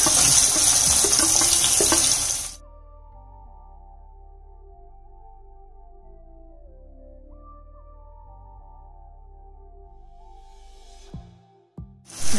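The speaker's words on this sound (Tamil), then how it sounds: "வெங்காயம் 1/2 நிமிஷம் வதங்கட்டும்." Onions hit a pan with golden fried garlic for a Tamil sundakkai tamarind curry, giving a loud, close sizzle for a couple of seconds before it drops away to near quiet with faint tonal hum.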